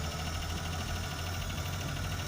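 Small 850cc engine of a Perodua Kancil idling with a steady, even hum and faint vibration, quiet and continuous throughout.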